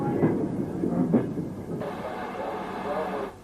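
An LMS Black 5 steam locomotive, number 44760, rumbles past with a brake van behind, loud and close, with heavy chugging bursts early on followed by a steady rolling roar.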